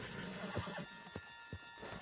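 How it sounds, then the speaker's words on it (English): A horse in the Red Dead Redemption 2 video game whinnies, with several close hoof clops thudding at irregular intervals over a steady game ambience; no one speaks. "Put Strauss on the back of John's horse and let's get out of here"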